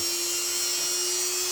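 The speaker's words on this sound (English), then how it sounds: "you're going to polish the area out with the wheel" A Dremel polishing wheel whirs at a steady high pitch against a Colt Python revolver, polishing the metal in a short continuous buzz.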